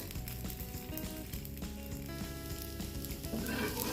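Dosa batter frying in a little oil on a hot pan gives a steady, dense sizzle with faint clinks and stirring noises, loud and close throughout, and nobody speaks.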